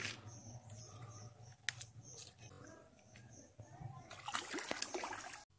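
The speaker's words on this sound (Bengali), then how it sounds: "মাছটা আমি এবারে পুকুরে ধুতে নিয়ে যাচ্ছি।" Fish being washed in a village pond sends up close, intermittent splashes and trickles of water, growing busier and louder near the end, with a faint voice in the background.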